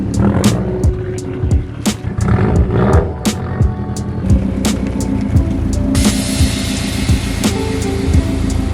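Subaru WRX STI with a new downpipe and HKS blow-off valve, loud rumbling exhaust heard from inside as it drives, with repeated sharp turbo whooshes and pops throughout.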